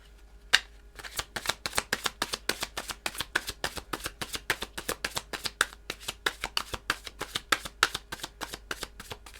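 Tarot cards shuffled by hand, a fast run of crisp riffling flicks in a steady rhythm, close and quiet with no voices.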